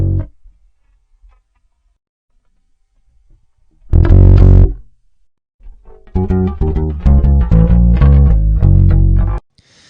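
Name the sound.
bass guitar through flanger pedal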